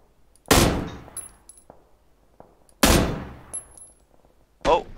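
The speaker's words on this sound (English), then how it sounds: "He's shooting at somebody there." Two loud gunshots in the PLAYERUNKNOWN'S BATTLEGROUNDS video game, spaced a couple of seconds apart, each trailing into ringing echoes, with small clicks and a third metallic blast near the end.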